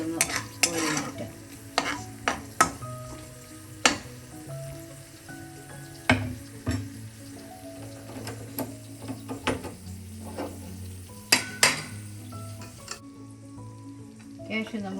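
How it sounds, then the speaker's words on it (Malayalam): Cashews frying in hot oil for fried chicken biryani, a steady soft sizzle broken by frequent sharp clinks and scrapes of a stirring utensil against the pan, close up and without speech. "കാഷ്യൂ എല്ലാം മൂത്തിട്ടുണ്ട്. നമുക്കിതൊന്ന് കോരി മാറ്റാം."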